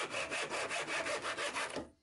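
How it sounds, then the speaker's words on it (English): A hand saw cuts a small planed length of pine into glue blocks, with about eight quick, even back-and-forth rasping strokes heard up close before the cut stops. "I planed up a little pyramid-shaped length of pine and cut it into four glue blocks"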